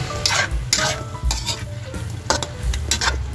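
Chicken for sinigang is stirred in a hot pot, a utensil scraping and clattering in quick repeated strokes over a close, sizzling frying sound.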